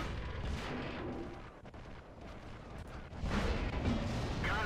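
A Wespe self-propelled artillery gun in World of Tanks fires with a deep boom, then the rumble fades and a second, sustained burst of battle noise swells near the end.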